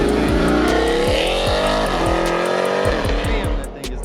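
Jeep Trackhawk engine revving loudly and close in a Mopar lineup, a continuous roaring rise and fall in pitch with sharp throttle blips and a faint tire squeal, fading slightly at the end.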